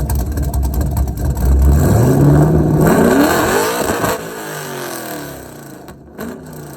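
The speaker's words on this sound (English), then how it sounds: "went to do a gender reveal burnout to make a cool little video" A Chevrolet Camaro's engine revs hard during a burnout, its pitch climbing steadily in a loud, close roar before dropping off, with a brief final rev near the end.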